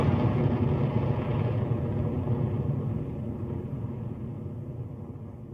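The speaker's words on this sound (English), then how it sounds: "Electron has lifted off from Launch Complex 1, cleared the pad" Rocket Lab Electron rocket climbing away from Launch Complex 1 in New Zealand: a deep, distant rumbling roar that gradually fades, with no voices over it.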